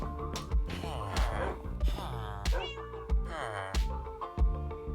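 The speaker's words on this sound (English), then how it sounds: "So there's cats. That's a witch's cat?" A witch's cat in the video game Minecraft meows repeatedly in short, distinct calls. The calls are clear and fairly close, over a soft, steady background.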